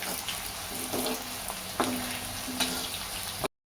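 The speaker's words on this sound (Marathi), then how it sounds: "बटाटे असे खालीवरती परतून घ्यायचे आहे आणि लालसर रंगावर तळून काढायचे आहेत." Potato slices frying in a pan as they brown to a reddish colour, a steady broadband sizzle with a few clacks of stirring, no voices.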